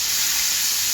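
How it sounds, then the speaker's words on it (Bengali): Small shrimp, about 700 grams, lightly frying in a pan for a malai curry, giving a steady, loud, close hiss of sizzling oil throughout with no pauses. "এটা হালকা করে ভেজে নেব।"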